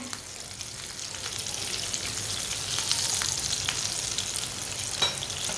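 Shami kebabs frying in a pan on a stove, giving a steady, close sizzle with soft crackles throughout and no voices.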